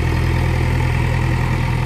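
A tractor engine idles loud and close beside a muddy field, a constant low throb with a steady mechanical hum and no speech.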